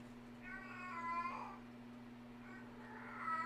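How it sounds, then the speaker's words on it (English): A house cat meows twice in the background, long drawn-out complaining calls, faint and somewhat distant over a steady electrical hum in a quiet room. "There's my cat."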